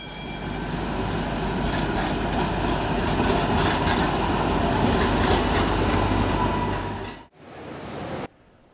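Rolling clatter and rumble of a tram on a newly opened line to a shopping district, heard steadily from on board, loud and continuous for about seven seconds before cutting to a quieter tail.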